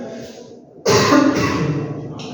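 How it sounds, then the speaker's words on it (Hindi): A single harsh cough bursts out abruptly after a quieter stretch, close and loud, trailing into rough throaty noise. "सॉरी थोड़ा सा खांसी आ गया।"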